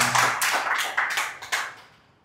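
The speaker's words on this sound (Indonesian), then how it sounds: "Makasih, tepuk tangan dulu buat Mang Ijot." Short burst of audience clapping at a business training session, a few loud waves of claps close by that fade out within two seconds, with no speech.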